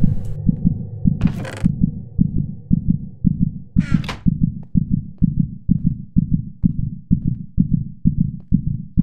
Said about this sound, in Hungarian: beindul a szívdobogás